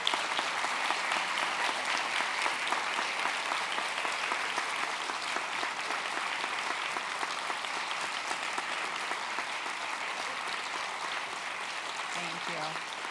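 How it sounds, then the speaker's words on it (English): Sustained applause from a lecture audience greets workshop participants as they stand, a dense, even wash of clapping that holds steady for over ten seconds with faint voices underneath. "let's just give them one more applause"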